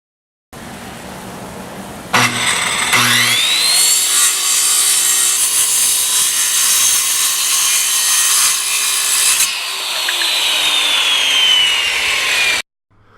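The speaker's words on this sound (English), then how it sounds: "just using a standard circular saw, and let's go ahead and cut these boards" A standard circular saw rips through wooden boards for a boat fishing rod holder, loud and close: the motor spins up, then a sustained whining cut with a rising pitch, and the blade winds down to silence near the end.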